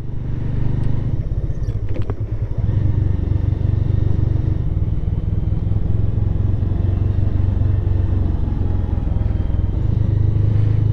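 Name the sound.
motorcycle riding on rough road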